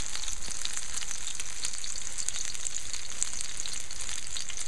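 Eggplant fries in a pan over medium heat, giving a steady, even crackling sizzle at close range with no voices present.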